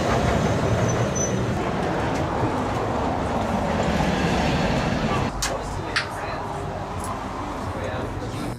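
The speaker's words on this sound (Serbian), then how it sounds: "starinskim drvenim tramvajem, koji je turistička atrakcija sam po sebi" An old wooden tram rumbles through Porto toward the mouth of the Douro, with a steady low rolling drone and rattle throughout, a brief shift near the end, and voices murmuring faintly underneath.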